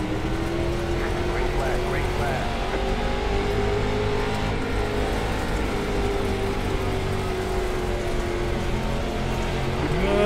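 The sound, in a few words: limited late model race car engine on dirt track, iRacing video game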